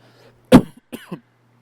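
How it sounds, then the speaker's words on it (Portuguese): A person coughs into a microphone during an online church service: one sharp cough, then two smaller follow-up coughs, close and clear against near silence. "perdão se eu tossi aqui no microfone"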